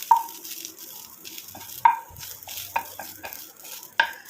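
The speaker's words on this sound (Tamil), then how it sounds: "ஆட் பண்ணிட்டு அதையும் சேர்த்து நல்லா நான் வதக்கி எடுத்துக்கிறேன்" Hibiscus flowers being sautéed in a pan, with a utensil stirring and scraping several times over a faint sizzle and occasional metallic clinks.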